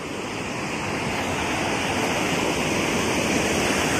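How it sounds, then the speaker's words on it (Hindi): A mountain stream in Uttarakhand flows beneath a bridge, producing a steady, loud, close rushing roar of water that runs without a break and with no talk. "ये रही नदी।"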